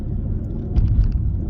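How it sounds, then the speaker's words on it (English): Car interior on a bumpy road: steady low engine and road rumble with a few soft thumps and jolts from bumps near the middle, no talk. "Bumping road."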